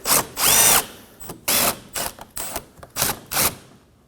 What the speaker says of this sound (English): With a 10mm socket, we're going to remove the 2 10mm.